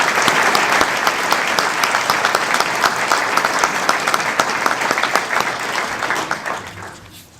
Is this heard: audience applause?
yes